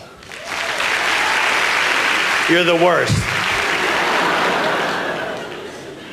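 Audience at a Louie Anderson stand-up comedy show bursting into loud, sustained applause mixed with laughter, while a voice calls out briefly over the clapping midway through.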